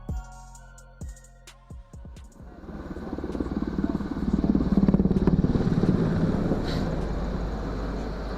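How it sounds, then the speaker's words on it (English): A few sharp clunks give way to a rising, heavy Black Hawk helicopter rotor roar with a rapid thumping pulse that swells loud and stays steady, as if passing low overhead. "Then you hear the Black Hawk roaring overhead."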